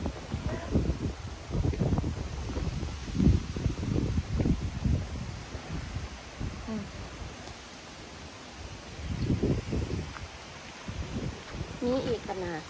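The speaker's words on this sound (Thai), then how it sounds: "ฝนลมน่ะ" During a wind and rain storm, gusts rustle through leaves in uneven surges and buffet the microphone in loud rumbling bursts, with quieter lulls in between and a person talking through parts of it.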